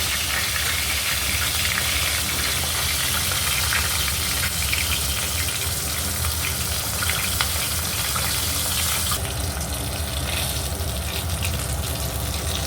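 Rohu fish heads frying in hot oil for a Bengali fish-head and rice dish, giving a steady, loud, dense sizzle that continues unbroken throughout, with a slight shift in texture near the end.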